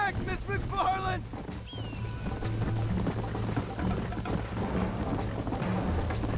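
In the Red Dead Redemption remaster, a horse gallops with rapid, steady hoofbeats close up, while someone talks over the game sound.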